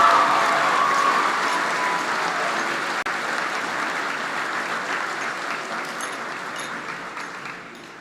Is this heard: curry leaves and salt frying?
no